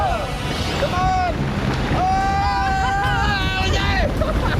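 A tropical storm wind gust roars during a hurricane, loud and steady, with broadband rushing noise buffeting the microphone while excited voices shout over it.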